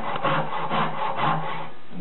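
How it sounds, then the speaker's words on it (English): A Lee Valley carcass saw with a 14-tooth crosscut blade cuts through wood in three steady rasping strokes, close and fairly loud with no talking. "This is Lee Valley's carcass saw. This is a 14-tooth crosscut."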